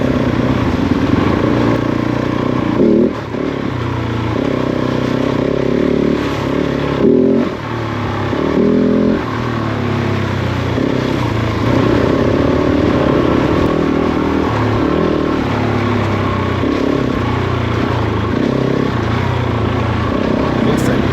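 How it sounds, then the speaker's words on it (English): A Kove 450 Rally motorcycle engine with a Scalvini aftermarket exhaust silencer drones steadily and loudly throughout, with a gruff, throaty note that rises and dips slightly as the throttle changes. "it sounds exactly like how a rally bike should sound"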